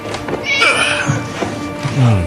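A cat meows in a Hindi movie scene, drawn-out, wavering cries mixed with voices and background sound.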